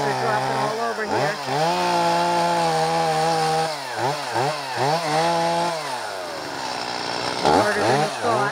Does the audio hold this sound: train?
no